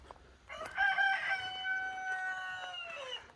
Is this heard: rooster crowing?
yes